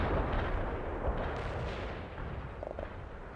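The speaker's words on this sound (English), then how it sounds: "Artillery strike on the way. Want an artillery barrage." Artillery barrage in the World in Conflict strategy game, with a dense, rumbling wash of distant shell impacts and gunfire rolling on steadily.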